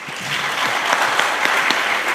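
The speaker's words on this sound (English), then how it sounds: "Can we give them a round of applause?" Audience applause for the panelists at the close of a panel discussion on drug abuse and mental health in north east Nigeria, a dense, steady patter of many hands lasting a couple of seconds with no talk over it.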